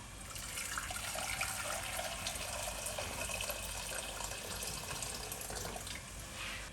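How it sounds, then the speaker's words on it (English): Boiling hot water poured into a cooking pan in a home kitchen, a steady, fairly quiet hiss and splash of liquid that continues evenly with no voices. "So here we are going to add in some boiling hot water."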